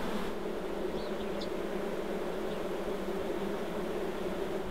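Dense, continuous buzzing of honey bees swarming around an opened hive during queen cell transplanting, a steady close hum with a few individual bees passing near.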